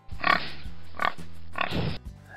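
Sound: pig grunting

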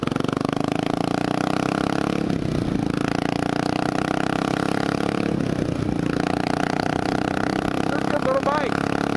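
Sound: 2003 Buell Blast P3 motorcycle riding

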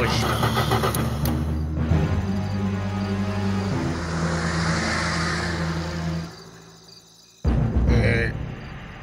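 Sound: car engine being started

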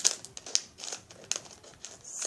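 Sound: cutting open plastic toy packaging with scissors

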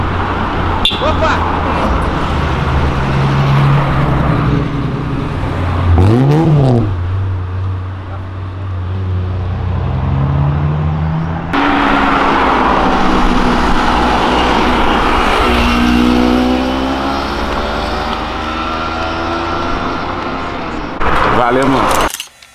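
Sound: cars downshifting gears on an avenue

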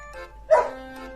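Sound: small dog barking

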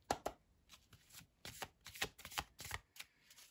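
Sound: tarot cards being shuffled and drawn

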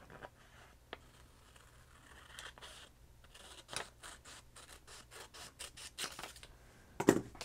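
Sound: trimming a packing tape image transfer with scissors

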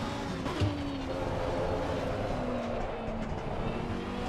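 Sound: race car sliding, tires skidding, Assetto Corsa Competizione video game

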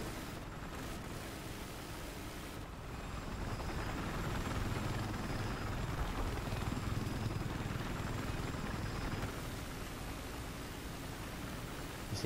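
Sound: helicopter in video game Battlefield 4

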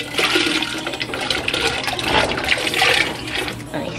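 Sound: corn kernels poured into a pot of water

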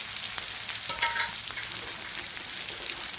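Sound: stir-frying spicy omelette with green peppercorns

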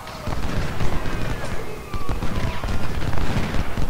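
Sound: musket gunfire in Ultimate General: Civil War video game

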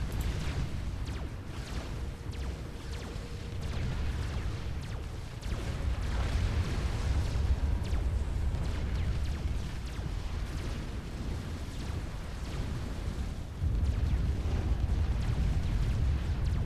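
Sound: explosions from the video game Supreme Commander: Forged Alliance

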